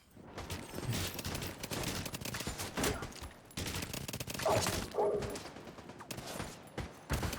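Light machine gun fire in a video game, a dense, continuous burst of rapid shots with mechanical clatter filling the whole stretch, loud and close.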